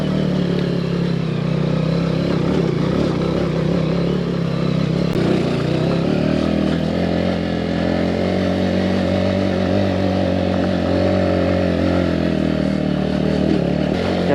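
A 125cc scrambler motorcycle riding an off-road enduro trail, its engine droning loud and continuous up close, with a slight shift in pitch partway through and faint clatter over rough ground.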